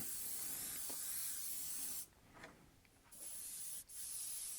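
Aerosol can of Candy 2.0 yellow paint spraying onto an RC car body, a steady close hiss broken by a couple of short pauses between bursts, with no talking.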